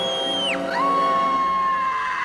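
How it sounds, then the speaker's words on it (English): The Grinch from the film lets out a loud, drawn-out scream whose pitch swoops sharply downward and then holds a long wavering tone, ringing clearly over a faint background for about two seconds. "the Grinch is here, and he screams"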